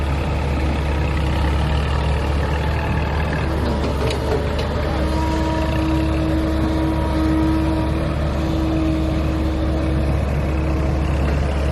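A tractor engine runs continuously nearby at a pond-digging and land-filling site, with a loud, steady, droning rumble throughout.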